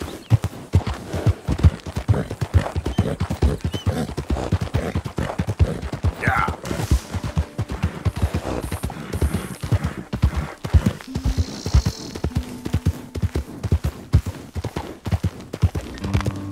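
A full black horse's hooves beat in a quick, steady clip-clop rhythm while it runs across open ground in Red Dead Redemption 2, with faint ambient game sounds under the continuous hoofbeats.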